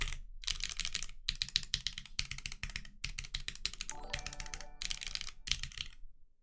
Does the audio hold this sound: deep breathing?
no